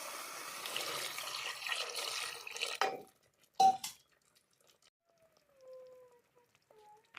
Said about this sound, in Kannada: ಇವಾಗ ಇದರಲ್ಲಿ ಸ್ವಲ್ಪ ನೀರು ಹಾಕ್ಕೊಳ್ಳೋಣ.